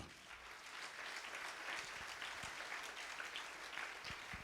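A church congregation applauds and cheers in praise of the Lord during a Sunday service, a dense, steady wash of clapping throughout with faint voices mixed in.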